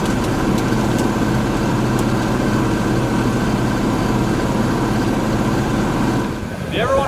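A tractor engine running during haying season, heard from inside the cab: a steady, close, droning hum that holds constant, then dips briefly near the end before resuming, with no talking.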